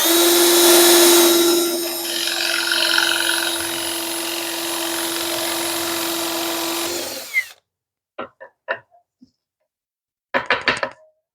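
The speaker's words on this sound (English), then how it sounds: "I'm going to take a 7/8 inch Forstner bit," A power drill with a 7/8 inch Forstner bit bores into scrap wood in one sustained, loud, close whine lasting about seven seconds, then a few short knocks and handling clatters follow.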